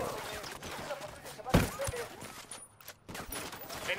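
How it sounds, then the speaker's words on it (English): Gunfire in the video game Ghost Recon Wildlands, a short burst of shots with one sharp loud crack amid game noise and a voice talking. "Oh, shots!"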